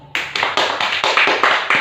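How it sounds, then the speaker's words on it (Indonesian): A classroom of students clapping in a quick, regular rhythm, about eight sharp claps in unison, close and fairly loud with no talking. "Tepuk tangan dong"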